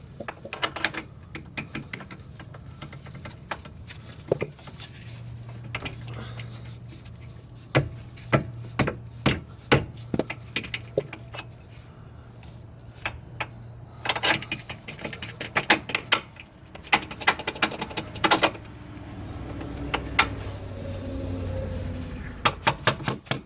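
Bolt being threaded and tightened on the front control arm of a 2013-2016 Dodge Dart, a close string of sharp metallic clicks and taps with a low steady hum beneath, growing busier toward the end.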